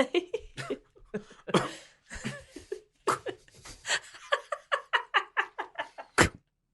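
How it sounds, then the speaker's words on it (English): A burst of short, choppy coughs and breathy convulsions, close by, some stifled, ending in one sharp louder cough. "I was trying to hold in a cough."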